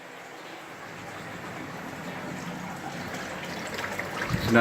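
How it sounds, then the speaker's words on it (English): Water in an aquarium tank pours over two bulkheads, a steady rushing trickle and splash that gradually grows a little louder, heard close and continuous with no talk. "So now you get an idea the flow's increased on the two bulkheads."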